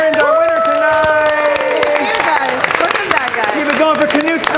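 A live audience claps and cheers for the winner of an evening show, loud and sustained, with whoops mixed in and a voice talking over the crowd throughout.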